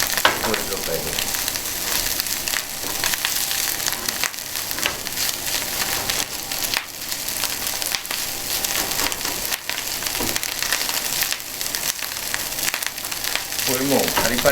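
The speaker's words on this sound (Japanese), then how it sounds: "これもうパリパリの音が出てきたらもう、水分が飛んでる証拠ですから" Fried rice fries steadily over high heat in a frying pan, a dense, loud crackling sizzle with occasional scraping stirs, continuing without pause.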